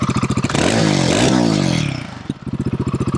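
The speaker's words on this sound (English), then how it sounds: "It's a pretty good sounding motorcycle." A Royal Enfield Guerrilla 450 motorcycle with a stock exhaust idles with a steady low thump, then revs hard in a loud rising roar for about a second and a half before settling back to a rhythmic idle.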